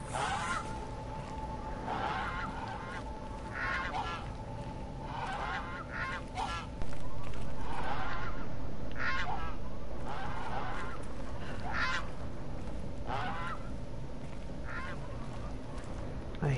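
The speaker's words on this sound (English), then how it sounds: "Get out of here, geese." Geese in Horizon Zero Dawn honk repeatedly in loose, overlapping calls over a faint ambient bed, growing louder partway through.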